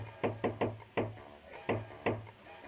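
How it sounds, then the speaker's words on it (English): Secret knock on a motel door in the video game Jazzpunk, about seven crisp wooden raps in an uneven rhythmic pattern, close and clear. "Knock on the door using the secret knock."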